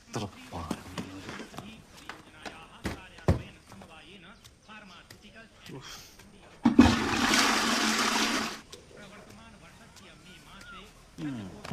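A toilet flush surges loudly for about two seconds midway, a rushing burst of water set between scattered thumps, footsteps and people talking.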